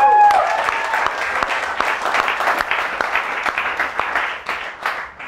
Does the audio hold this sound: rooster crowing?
no